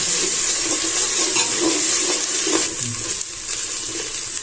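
Ginger and garlic frying in a pan for chicken dum biryani, a steady close hiss and sizzle with faint stirring scrapes, no talk.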